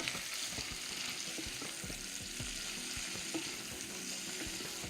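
Root vegetable korma sauce sizzles steadily in a pan, a continuous close frying hiss with faint crackles throughout and no talking.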